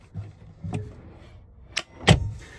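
A storage drawer slides under a step inside an Ekko camper van: a few soft bumps followed by two sharp knocks as it runs and stops, close and fairly quiet, with no talking.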